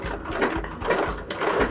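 Sewing machine running a triple stitch with thread to embellish a neon satchel, giving a steady rhythmic chatter of needle strokes in quick repeated bursts, close and moderately loud with no talking.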